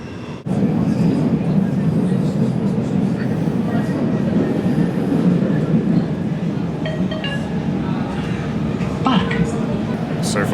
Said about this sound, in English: And this is one of the more modern trains.